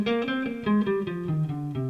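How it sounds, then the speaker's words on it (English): A natural minor scale played as a quick run of distinct, evenly paced notes on a sustained, electronic-sounding tone, with no talking. "So the natural minor sounds like this."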